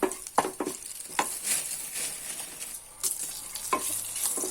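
Garlic and urad dal sizzling in hot oil for a tempering, a close, even frying hiss with irregular spoon stirs and scrapes, no talking.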